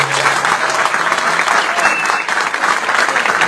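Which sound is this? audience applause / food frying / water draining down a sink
audience applause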